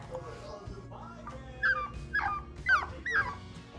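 A Pomeranian puppy in a pen whimpers softly, then lets out several sharp yips and barks in a row, with quiet rustling underneath.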